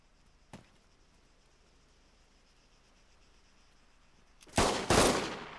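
Gunshots in Arma 3 Altis Life: a lone faint distant crack, a long quiet stretch, then two loud close shots in quick succession that echo and fade.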